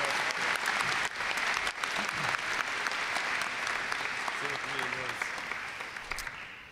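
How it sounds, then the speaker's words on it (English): Sustained applause from an audience at a Martin Luther King Jr. assembly, a dense, even wash of many hands clapping throughout, with faint voices mixed in. "Can we please give them a round of applause?"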